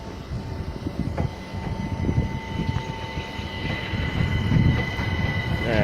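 A train passes at Clapham Junction with a steady, loud rolling rumble and a sustained high whine, the sound swelling slightly toward the end with no talking.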